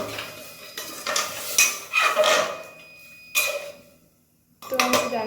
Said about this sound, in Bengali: এবার আমি ঢাকাটা দিয়ে দেবো